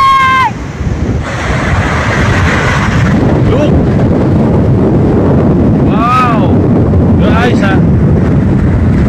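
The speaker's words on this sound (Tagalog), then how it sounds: "sobrang lakas ng hangin" Strong wind roars and buffets the microphone, mixed with rushing surf-like noise, while a voice calls out briefly over it.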